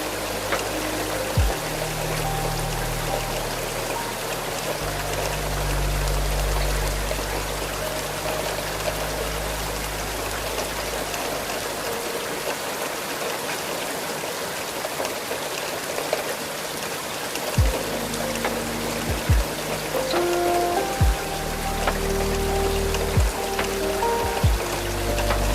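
Heavy rain on a window of a midnight train crossing the Scottish Highlands, a dense continuous wash of patter and trickling over a low rumble, with occasional deeper thumps and tonal hums.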